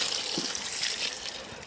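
Water gushes and splashes as it is poured out of a hiking boot on a taiga trek, a short close burst of running liquid with no talk.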